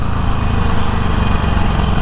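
A Harley-Davidson Forty-Eight idles loudly with a turbo exhaust whistle fitted, its low rumbling throb carrying a thin, steady high whistle above it.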